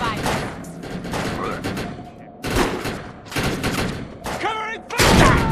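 Rapid bursts of covering gunfire in the sci-fi shooter game Defiance, loud and near in repeated volleys, with voices talking between and over the shots.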